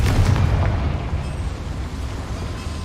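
A Confringo spell explodes in the Hogwarts Legacy video game, a loud deep rumbling blast that fills the whole moment and slowly fades into a dense low roar.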